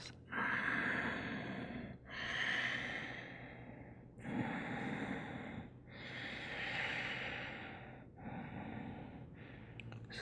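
Slow, deep breaths in a yoga class, about five long inhales and exhales with an airy, audible rush close to the mic. Steady rhythm, no talking.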